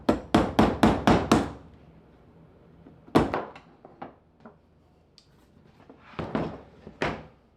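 Sharp metallic hammer strikes on an Allen key drive out a pin in a diesel heater: a quick run of six blows, then single taps and a later cluster, close and loud with quiet gaps between.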